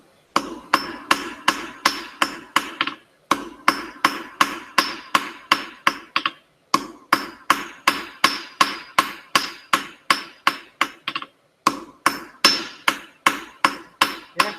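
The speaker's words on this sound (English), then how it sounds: "move your work over to the edge of your anvil so you can force your hammer over" Hand hammer forging hot metal on an anvil for a diamond point, sharp ringing blows struck in fast regular bursts of about a dozen each, separated by short pauses, loud and close with no talking.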